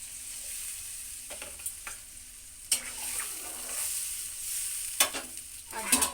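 Water hits a pan of frying spice masala, with loud bursts of sizzle and hiss over a steady frying crackle, several sharp surges spread across the clip and no talk.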